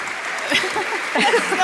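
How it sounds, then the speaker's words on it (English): Audience applause at a live Western Cape couch-session event fills the short stretch as a steady wash of clapping, with a voice talking over it. "Save the clapping for later"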